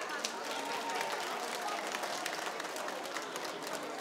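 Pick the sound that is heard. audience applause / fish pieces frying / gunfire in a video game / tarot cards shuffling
audience applause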